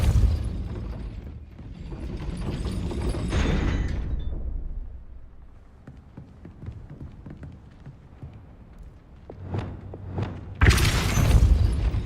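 In the Hogwarts Legacy video game, a Depulso spell lands as a heavy, close boom near the end, after a stretch of rumbling, mechanical game ambience and softer scattered effects.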